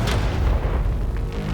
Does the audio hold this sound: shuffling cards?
no